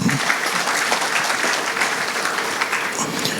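A congregation claps steadily for the Lord at a church gathering honouring a pastor, the dense, even applause sustained throughout without pause.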